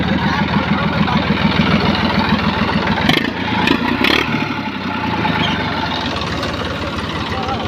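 A New Holland tractor engine runs close by with a rhythmic low idle and mechanical clatter, briefly interrupted by a few sharp knocks midway.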